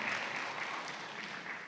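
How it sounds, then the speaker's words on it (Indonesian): A church congregation claps together in a steady, even wash of applause that sounds distant and fairly faint. "Yang setuju beri tepuk tangan yang mulia buat nama Tuhan."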